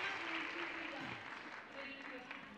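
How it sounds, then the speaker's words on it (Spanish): Studio audience applauding on a Spanish television variety show, a steady wash of clapping with cheers and shouts mixed in, alongside the host's voice. "Y un aplauso para ellos."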